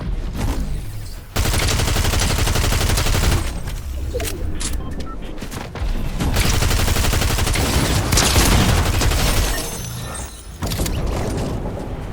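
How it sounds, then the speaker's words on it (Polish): Dense, loud gunfire in Fortnite Reload no-build mode, with sustained rapid automatic bursts and booming shots broken by short pauses, close and continuous through most of the stretch. "Tam ktoś strzela jeszcze."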